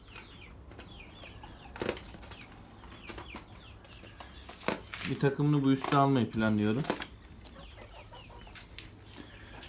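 A rooster crows loudly in the middle of a short spoken remark, with faint clucking and hen chatter from Brahma chickens around it in an enclosed coop.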